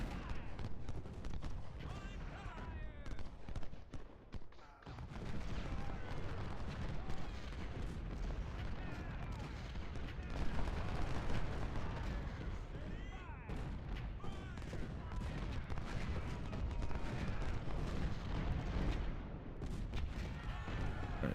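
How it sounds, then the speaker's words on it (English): Musket volleys and artillery fire from the Ultimate General: Civil War game crackle and boom continuously in a dense battle din, with someone talking over it throughout. "gonna have him use a volley on the enemy supply wagons"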